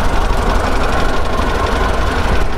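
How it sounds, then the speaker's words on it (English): The 2-liter inline four-cylinder gasoline engine of a 1984 Mitsubishi J59 Jeep runs at a steady idle, loud and close, with a rough, even low rumble and no talking over it. "the engine seems to run good"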